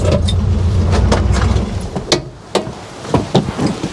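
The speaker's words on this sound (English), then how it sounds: "the throttle actually stuck" A Chevrolet Biscayne hot rod engine roars loudly with its throttle stuck open, then cuts off, leaving scattered clunks and knocks that may be gravel or car parts.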